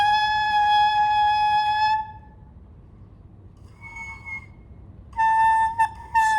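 A saxophone mouthpiece blown on its own produces a loud, steady, high-pitched squealing tone that stops, gives way to a brief quieter attempt, then returns strongly, wavering slightly at the end.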